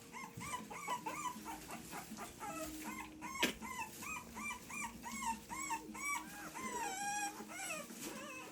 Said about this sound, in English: This is what we want, happy pups.